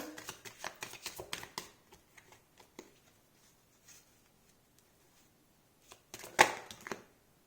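Tarot cards turned over during a romantic reading: a quick run of close papery flicks and slaps, then a pause before a louder burst of card handling near the end.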